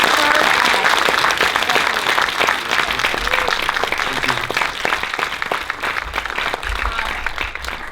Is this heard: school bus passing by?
no